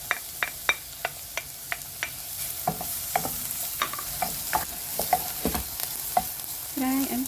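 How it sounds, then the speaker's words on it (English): Onion frying in a pan until golden brown for garlic turmeric rice, a steady low sizzle punctuated by regular sharp spatula taps and scrapes, close and moderately loud, with no talking. "Fry until it turns to golden brown."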